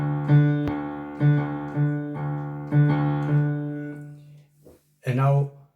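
Piano plays a Balkan rumba accompaniment, alternating root and octave notes in a steady repeating bass pattern, clear and close, with a brief pause near the end before the playing resumes.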